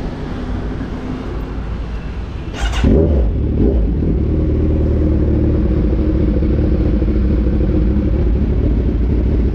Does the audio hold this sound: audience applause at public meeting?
no